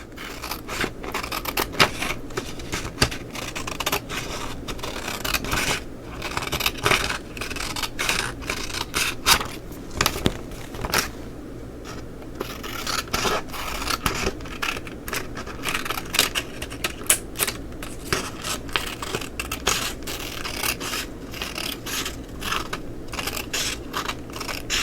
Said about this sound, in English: And let's just take our scissors.